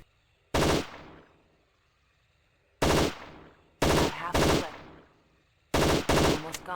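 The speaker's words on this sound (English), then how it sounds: "Oh great, the HKVP-70. It's a burst-fire pistol" Pistol fire from the HKVP-70 burst-fire pistol in the video game Trespasser comes as loud, sharp bursts of rapid shots in four separate volleys. Each volley has a short ringing tail, with silence between volleys.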